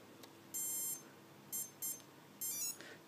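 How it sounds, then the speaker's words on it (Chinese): Electronic speed controller on a model during throttle calibration emits short high-pitched beeps, a longer tone followed by a few quick ones, clear and alone over faint background hiss. "当呈现绿灯之后跳三下，响了哔哔两声之后，我们在6秒钟之内要将摇杆往下拉"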